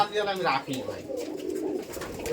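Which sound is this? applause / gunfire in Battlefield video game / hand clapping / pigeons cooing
pigeons cooing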